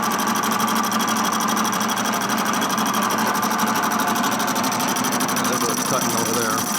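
A machine cuts metal from a Harley M8 motorcycle engine case being bored out to 145ci with 4.5-inch cylinders. It makes a loud, steady, buzzing whir with a fast rattling texture that holds unbroken throughout.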